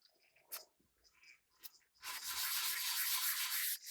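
Hand sanding of a lacquered timber finish with applied faux grain: steady, close abrasive rubbing fills the second half after a few soft scuffs and taps, no voices.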